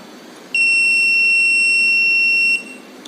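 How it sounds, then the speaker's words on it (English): A high-pitched electronic buzzer on a Raspberry Pi rain sensor sounds in one steady, loud tone for about two seconds, then stops. "So the rainfall found and also the buzzer sound."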